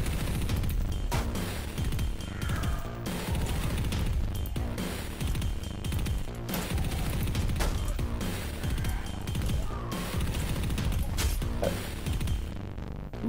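Dense, continuous gunfire and crashing impacts from the video game Paint Town Red, a loud sustained barrage of rapid shots and booms with no break.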